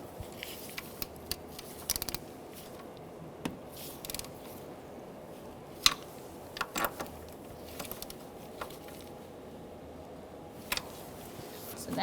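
An 8 mm socket on a ratchet snugs down bracket nuts on a 2000-2007 Ford Taurus 3.0L V6 intake manifold, with scattered quick clicking bursts over a quiet hum and no speech.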